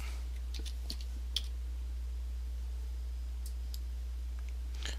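Scattered light clicks of a computer keyboard or mouse in Daz Studio, a few faint taps spread over several seconds above a steady low electrical hum, with no voices.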